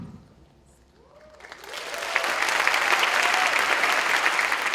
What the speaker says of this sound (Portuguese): A plateia aplaude calorosamente a entrada de Geni Nunes e Ailton Krenak